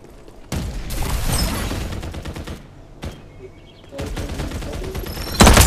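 Bursts of automatic gunfire from the battle royale video game Farlight 84, loud and close, firing in sustained volleys with short pauses between them and a sharp blast at the end.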